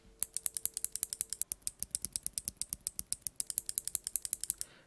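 Kailh BOX Navy mechanical keyboard switches are pressed in a rapid run of sharp, crisp clicks, about forty evenly spaced snaps with a short pause near the middle. They sound close and fairly quiet, with no talking.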